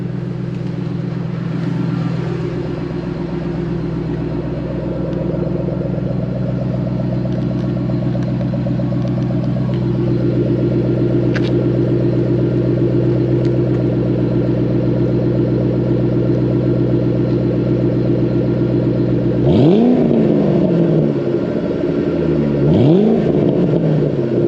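A cammed 2014 Ford Mustang GT500 and 2008 Bullitt with Kooks long-tube headers rumble at a loud, choppy idle, then rise in two quick revs near the end, with the exhaust close and alone.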